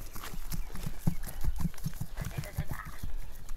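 Horses walking on hard ground, a steady run of close hoof clip-clops in an irregular rhythm, fairly loud against faint background noise.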